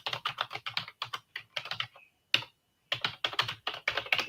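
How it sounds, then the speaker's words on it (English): Fingers type on a computer keyboard in close, crisp bursts of rapid clicks. The bursts break for a pause and one single tap before the typing resumes, with no talking. "Let me put it down so I can type the sold."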